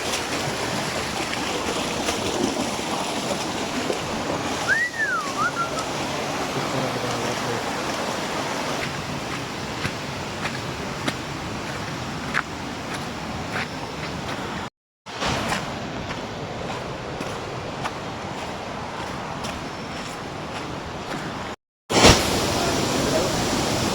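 Ermayi waterfall in Karnataka gives a steady, dense rushing roar that fills the whole stretch, broken by two very brief dropouts.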